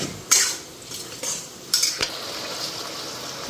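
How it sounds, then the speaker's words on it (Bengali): Spices sizzle in a pan at home as a utensil scrapes and clinks against the metal in a few short, sharp strokes, with a low frying hiss continuing between them. "এটা ভালো করে ফ্রাই হোক"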